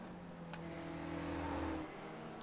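Race car engine idling steadily in the pits at Okayama during an SCCA Spec Ford event, a low continuous drone in the background with no talk over it.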